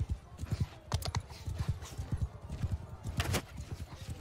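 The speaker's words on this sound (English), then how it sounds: "Kill his horse." Horses gallop in a medieval battle in Mount and Blade 2: Bannerlord, with rapid, continuous hoofbeats that are close and loud, a dense drumming rhythm throughout and no speech.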